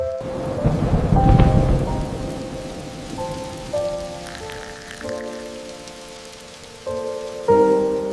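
Steady rain falls on a surface with a low rumble early on, while faint tonal background sounds drift in and out.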